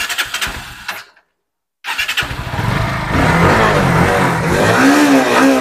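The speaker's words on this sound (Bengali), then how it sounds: "NS 160 ABS মডেল, একবার স্টার্ট করে ডবল ডিস ডবল ABS। আওয়াজটা শুনিয়ে দাও দাদা।" A blue Bajaj Pulsar NS 160 ABS motorcycle with dual disc brakes at a bike showroom: brief engine noise, a moment of silence, then the engine starts and settles into a loud, steady idle with rising revs.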